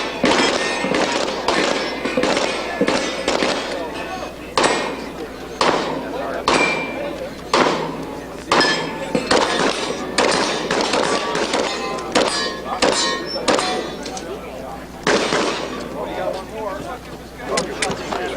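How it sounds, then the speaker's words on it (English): Shotguns fire at a police shooting match held during a convention, a rapid series of sharp, loud bangs spaced about half a second to a second apart, going on for roughly eighteen seconds with brief pauses. "Loaded shotguns."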